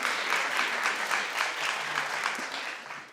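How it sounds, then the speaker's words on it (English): An audience claps steadily for a model at a fashion showcase, a dense continuous patter of many hands at moderate distance, fading slightly at the end with no talk over it. "you can clap for the next girl"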